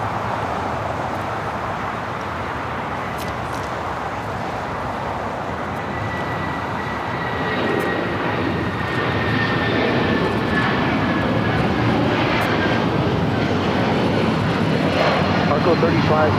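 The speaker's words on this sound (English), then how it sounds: "This is United Airlines 2069 taking off to Houston Intercontinental on a 757-300." A United Airlines Boeing 757-300 jet takes off at LAX with a broad, steady engine roar that builds slightly and holds, heard from a distance outdoors, with a voice talking over it.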